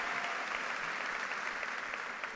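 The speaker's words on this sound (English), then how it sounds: "Yeah, you can clap for that." A crowd claps at the Wilson High School class of 2019 commencement ceremony, a broad, even wash of applause from many people, somewhat distant and sustained for a couple of seconds.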